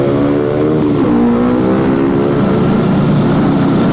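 A Yamaha R15 motorcycle accelerates hard, its engine note climbing in pitch under steady loud wind and road roar, close and continuous with no talking.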